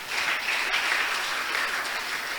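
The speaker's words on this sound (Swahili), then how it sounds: "Pigia Yesu makofi" A church congregation claps in steady sustained applause, a dense even wash of many hands close by with no pause.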